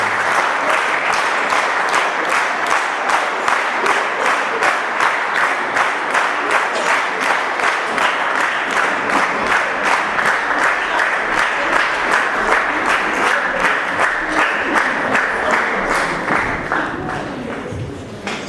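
An Armenian concert audience gives long, loud applause to musicians playing folk instruments. The dense clapping keeps a steady pulse for about seventeen seconds before thinning out at the end.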